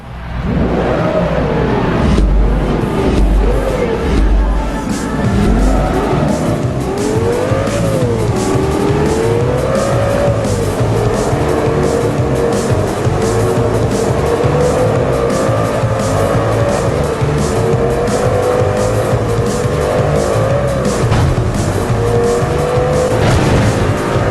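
Race car engines roar and tires squeal in Forza Motorsport 3, a loud continuous stretch of revving, shifting engines with repeated skids, no voices over it.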